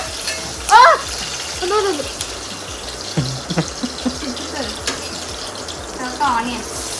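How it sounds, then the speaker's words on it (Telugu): Water is poured into a pan of frying chicken curry, giving a steady hiss and splash over a continuous sizzle, with faint voices and a few clatters in the background. "కొన్ని నీళ్ళు పోతాం."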